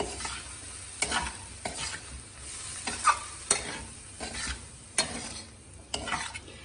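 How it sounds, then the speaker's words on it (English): A spoon stirs a corn snack mixture dressed with lime juice, giving repeated scraping, clattering strokes against the bowl in an irregular rhythm, close and distinct with no speech. "and juice of 1 lime. And mix it very well."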